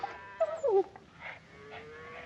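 A dog in a 1959 Bonanza western episode lets out short, high whimpers that slide downward in pitch, followed by softer, fainter whines against a quiet background.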